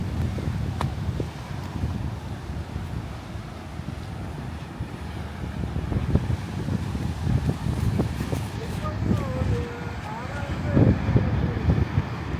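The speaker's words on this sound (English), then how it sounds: "I'm trying to block the wind here." Wind buffets a microphone on a Kerala beach, a steady low rumble with occasional gusts and thumps, heavier toward the end, and faint surf or distant sounds underneath.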